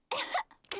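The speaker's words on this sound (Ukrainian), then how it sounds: "Як я й думав, кашель у Педро такий заразний." A cartoon pig character's cough in Peppa Pig: a short, close, harsh burst followed by a second, quicker hack, alone without talk.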